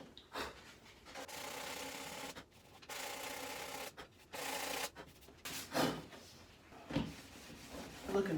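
Sandpaper works over a surfboard ding repair in repeated rough scraping strokes, broken by short pauses, fairly close and moderately loud.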